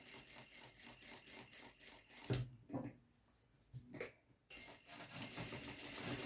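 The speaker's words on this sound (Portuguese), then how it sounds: "vou passar essa costura aqui, ó, a toda a volta. Começando com o retrocesso e vamos costurando, né?" A sewing machine stitches a seam around a multipurpose pouch, starting with a backstitch, in rapid rhythmic bursts that stop briefly midway and then resume at a steady pace.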